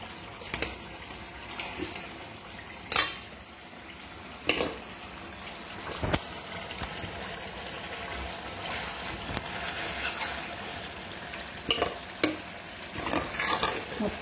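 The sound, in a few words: chicken being added and stirred in a cooking pan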